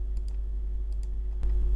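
A few light computer-mouse clicks while a game is built in PowerPoint, quick paired taps spaced apart over a low steady hum.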